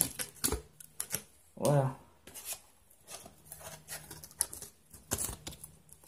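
Paper being cut while making a handmade album: short crisp snips and rustles close by, interspersed with quiet speech and a brief vocal exclamation.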